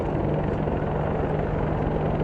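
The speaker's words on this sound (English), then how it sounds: "U.S. military helicopters test fire on South Korean soil." U.S. military helicopters over South Korea give off a constant, dense rotor and engine roar, loud and close, with no break and no other sound above it.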